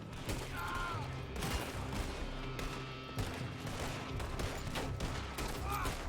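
Rapid bursts of pistol gunfire in a Red Dead Redemption II shootout with Pinkertons, loud sharp reports repeating in quick irregular volleys throughout, with a faint voice in the background.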